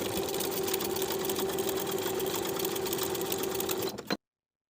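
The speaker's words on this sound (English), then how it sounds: "Edge stitch close to the bottom inner fold with an 1/8 inch seam allowance" A sewing machine edge stitches a kite pants pocket close to the inner fold with a 1/8 inch seam allowance, giving a steady, close, continuous whir that runs unbroken for about four seconds before stopping abruptly.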